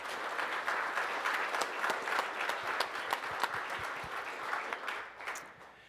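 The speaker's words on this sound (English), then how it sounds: "So please give me a round of applause for the speakers" Audience applause for panel speakers and sponsors at a flea beetle conference session, a steady wash of many hands clapping throughout, fairly distant and even with small sharp peaks.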